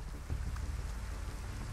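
Rain falling in The Crafting Dead, a Minecraft zombie mod: a soft, steady patter and hiss with a low rumble, fairly quiet and even throughout, with no voices.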